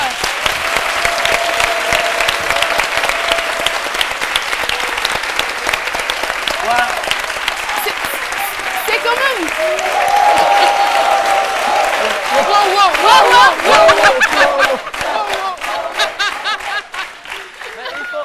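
A television studio audience applauding on a midday talk show, long sustained clapping with scattered laughter and chuckles, while presenters talk over it and the applause swells again toward the end.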